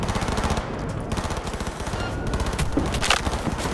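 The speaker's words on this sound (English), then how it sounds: "Who should I be shooting at?" Automatic gunfire in the video game Cyberpunk 2077 rattles continuously at a fast, steady rate, dense and fairly loud, with a few sharper cracks standing out near the end.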